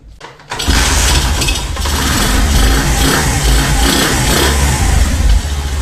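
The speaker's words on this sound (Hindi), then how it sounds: "सबसे पहले फ्रेंड्स हम बाइक को कर लेते हैं स्टार्ट।" A motorcycle engine with its air filter removed cranks briefly, then catches and settles into a loud, steady running roar that continues close up without talk.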